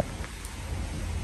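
Rain falls outdoors in an Italian town, a soft and steady patter throughout with no one speaking.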